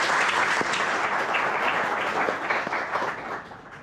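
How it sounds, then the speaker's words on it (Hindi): Workshop audience in Peshawar clapping together, a full, even burst of applause that slowly thins and fades toward the end. "तो जरा अपने लिए एक दफा तालियां बजाएं।"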